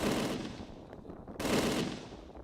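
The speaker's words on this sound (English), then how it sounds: "The MG42 is the sound of a bad day." Two dense bursts of rapid fire from a WWII German MG42 machine gun with a tearing, buzzing roar, separated by a brief pause, loud and close.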